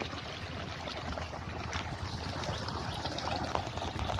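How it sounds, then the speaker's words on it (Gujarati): Irrigation water runs into a freshly planted onion field, a continuous rushing, trickling flow with a steady outdoor wash of noise and no speech. "અત્યારે ડુંગળીમાં પાણી ચાલુ છે જોવું"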